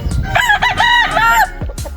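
A farm rooster lets out one loud, close crow, followed by a few short clucking calls.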